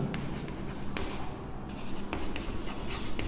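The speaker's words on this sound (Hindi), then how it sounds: "मैं लिखता हूँ" Pen writing on paper while working a maths logic exercise produces close, continuous scratchy strokes with brief taps and lifts between words.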